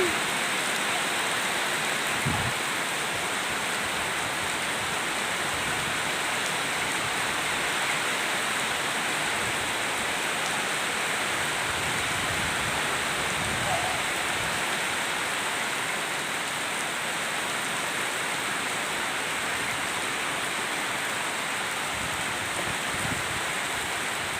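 A heavy tropical downpour roars steadily and evenly, a close, unbroken wash of rain falling on surfaces with no voices or breaks.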